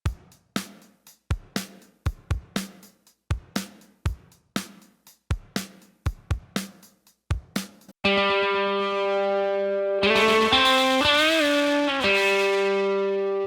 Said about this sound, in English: they also have an excellent free delay plugin called Delay 11.